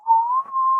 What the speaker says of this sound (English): what were you whistling for?